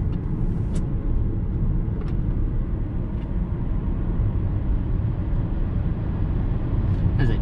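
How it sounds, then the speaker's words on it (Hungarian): Opel Ampera plug-in hybrid under full-throttle acceleration, a steady loud broadband road and engine roar that holds throughout with little change. "Ez egy padlógáz."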